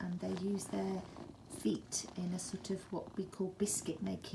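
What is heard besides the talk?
No everyday noise stands out behind the speech.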